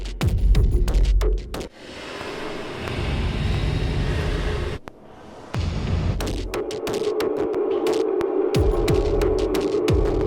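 Drums heavily processed with a Beam drum warp plugin become a throbbing, humming, warped texture, loud and sustained, broken by short dropouts and choppy stuttering bursts.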